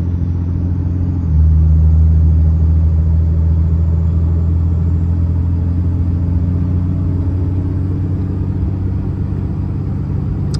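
A 3rd-generation Cummins diesel pickup drives along in tow-haul mode pulling a small trailer, its steady low engine drone and road rumble filling the cab, with a slight rise in load partway through.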